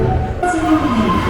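An Osaka subway train on the Purple Line rumbles nearby with a rising whine and metallic squeal as it arrives, brief and fairly loud, with faint station murmur.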